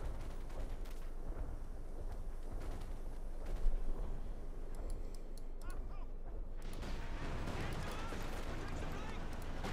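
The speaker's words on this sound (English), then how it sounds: "an artillery strike called in to deal with the Max up north" Artillery strike in Company of Heroes 2, with distant booms and rumbling impacts over continuous battle noise, one louder blast near the middle, and a voice talking over the top.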